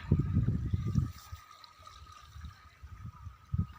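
Irrigation water trickles and gurgles as it flows into the beds of a village vegetable field. The flow is soft and continuous, with low rumbling bursts that fade in and out outdoors.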